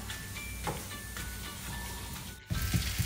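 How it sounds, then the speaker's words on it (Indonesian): A paratha roasts on an oiled Teflon pan, giving off a soft, steady sizzling hiss with a faint clatter near the end. "Jadi ini dosto Alia panggang di teflon sampai dia berubah warnanya jadi kecoklatan"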